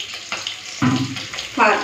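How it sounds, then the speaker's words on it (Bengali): Fish frying in a pan for a rui fish curry, with a crackling sizzle that swells in short bursts over a low kitchen background. "এখন চলো, মাছ ভাজাটা হয়ে গেছে,"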